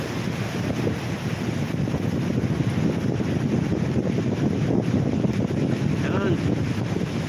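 Strong wind gusting over the sea, a steady loud rush buffeting the microphone with a faint undertone of waves, continuous throughout and no clear talk.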